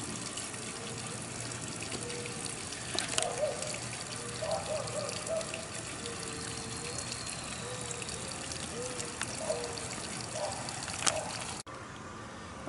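Chlorinated well water recirculating out of a garden hose during well disinfection, a steady running splash and trickle, continuous and moderately close, with faint background voices.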